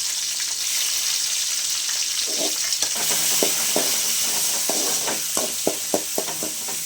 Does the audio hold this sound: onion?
yes